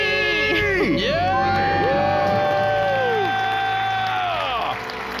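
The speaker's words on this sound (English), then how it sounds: "Let's hear a debt-free scream." A crowd of people shouts, screams and cheers continuously at full loudness, with whoops and rising and falling voices over a dense, steady roar.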